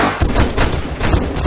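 Gunfire in a Minecraft DayZ PvP warzone: a quick burst of several loud, sharp shots in an uneven rhythm, close and punchy, with no talk over them.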